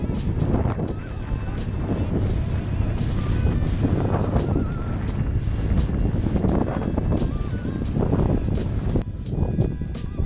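Wind gusts buffet the microphone at sea near an island, rumbling and surging in waves throughout, with honking bird calls mixed in.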